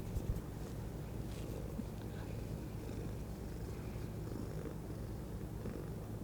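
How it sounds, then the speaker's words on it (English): Steady, low rumbling purr from a cat, continuous and close, with a quiet breathy texture and no talking. "I wonder if they can hear you purring."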